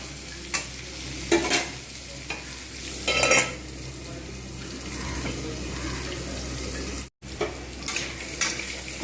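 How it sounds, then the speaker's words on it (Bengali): Pumpkin, pointed gourd and peanuts frying in plain soybean oil for a banquet-style recipe, with a steady sizzle throughout and repeated scraping stirs of a spatula against the pan, close and without talk. "এখন কিন্তু এমনি জাস্ট সয়াবিন তেলেই কিন্তু এগুলো সব ভাজতে থাকবো।"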